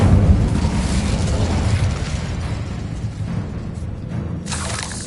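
A fire spell bursting into flames in Hogwarts Legacy, a loud rumbling explosion that roars at the start and then fades into a crackling burn.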